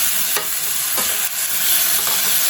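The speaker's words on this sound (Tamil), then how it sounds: "இப்போ வெங்காயம் வதங்கிடுச்சு" Small onions sautéing in a pan for ladies finger kuzhambu give a steady, close sizzle with a few soft stirring scrapes, alone without talk.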